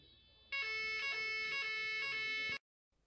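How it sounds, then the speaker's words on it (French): A building evacuation alarm sounds during an alarm test: loud, steady electronic tones with a repeating pulsed pattern, lasting about two seconds before cutting off abruptly into silence. "Le signal d'évacuation va retentir."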